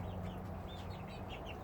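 Young chicks cluck and peep in quick, soft bursts, a string of small high chirps repeating over a low steady background, fairly faint with no talking.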